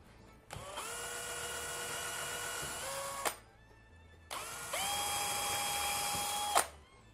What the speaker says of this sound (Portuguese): Então agora eu vou fazer o furo.